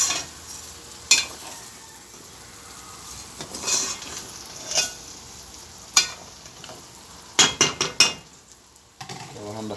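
Rice stirred and fried in a pan over medium heat, still without broth: soft continuous sizzle broken by sharp scraping strokes and clinks of the utensil against the pan, clustered near the end.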